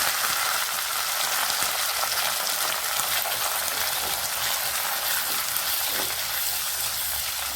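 Small onions and green chillies sautéing in a pan, a steady broadband sizzle that holds at the same even level throughout, with no talk over it.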